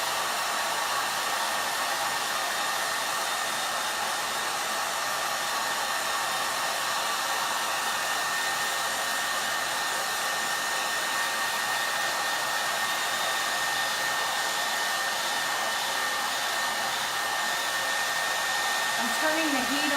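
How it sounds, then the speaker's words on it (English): A hair dryer blows continuously at a steady, loud whooshing pitch, close by, with no breaks for the whole stretch, drying paste and ink on a chalk-craft design. "With the hair dryer, it'll only take a minute or so for the paste to dry"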